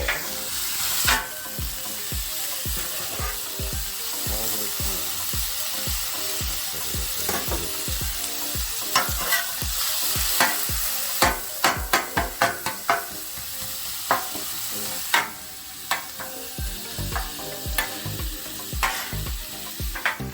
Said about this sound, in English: Meat is cooking. Onions are doing their thing.